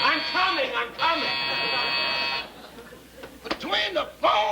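A door buzzer drones in a long, steady electric buzz at the start, with people talking over and between the buzzes in an old radio comedy scene.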